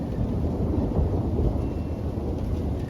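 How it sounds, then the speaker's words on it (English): Deep thunder from a thunderstorm rolls in a continuous, loud low rumble with rain hissing underneath, and no voices. "There's the thunder from it."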